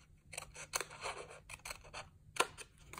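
Paper trimmed with scissors while making a stamped gift box, a few soft snips and papery rustles in short bursts with gaps, close and quiet, one sharper cut near the end.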